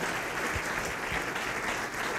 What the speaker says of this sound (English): another round of applause for all the wonderful B-Lab teams